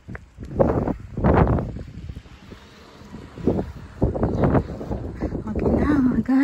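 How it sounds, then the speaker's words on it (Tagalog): Strong outdoor wind buffeting the microphone in gusty rumbling bursts, loud and uneven, with a person speaking through it. "Malakas ang hangin pa. Mahangin."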